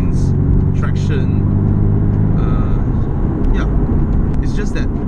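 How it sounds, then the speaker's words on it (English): 2017 Porsche 718 Boxster S rolling along slowly, its engine a loud, steady low drone with road rumble, while someone talks over it throughout. "when you're going slow like this, right, you might feel that the car doesn't sound very characterful"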